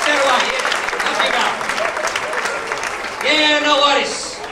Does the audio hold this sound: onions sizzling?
no